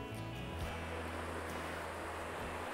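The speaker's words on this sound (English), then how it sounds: "Man, I love the sound of that river, don't you?" A river flowing beside a campsite, a steady broadband rush of moving water that continues without pause, close and fairly loud, with a low rumble underneath.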